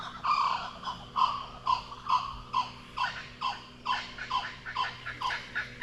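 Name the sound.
kookaburras calling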